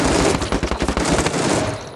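Rapid automatic AK rifle fire in the mobile shooter Standoff 2, a loud, dense burst of closely spaced shots continuing for about two seconds.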